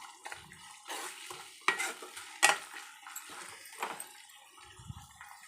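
Ginger paste frying in a pan for a potato curry, with soft sizzling under repeated spoon stirring and scraping, several sharper clinks of utensil against the pan.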